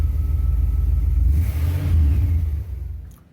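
A 1975 Cadillac Fleetwood engine idling at about 800 to 900 RPM, a loud close low rumble that holds steady, swells slightly, then drops off near the end.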